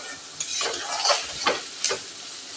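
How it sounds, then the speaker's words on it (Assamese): Onion sizzles steadily as it is stir-fried in a pan, with several louder scraping bursts from stirring. "পিঁয়াজ দি অলপ লৰাই দিছোঁ।"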